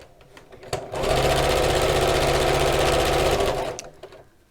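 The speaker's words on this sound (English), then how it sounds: "I'm going to fold over and sew across that way" Close and loud, a sewing machine runs in one steady burst of about three seconds, stitching fabric squares together with a rapid mechanical whirr, preceded and followed by faint handling noises.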